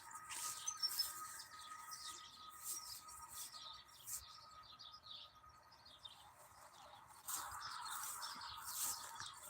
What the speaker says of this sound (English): It's some kind of little fucking yellow bird